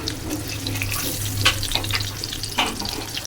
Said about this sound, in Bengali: আসলে তেলটা অনেকটা গরম হয়ে গেছে, এবার আমি দিয়ে দিব বেগুনগুলো